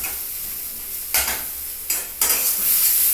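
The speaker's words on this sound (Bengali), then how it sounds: "আরেকটু তেল দিয়ে ভালো করে নাড়িয়ে নিচ্ছি।" Coconut stuffing frying in oil crackles with a steady, fairly loud sizzle, broken by a few scraping stirs of a spatula across the pan.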